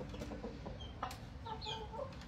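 Four-month-old bullstag rooster clucking close by, with several soft, short clucks over low background rumble.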